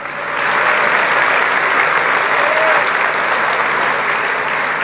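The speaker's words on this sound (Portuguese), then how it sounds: "aplauda o Senhor" A church congregation applauds together in a sustained, loud, even roar of clapping that swells in after a moment and holds steady throughout.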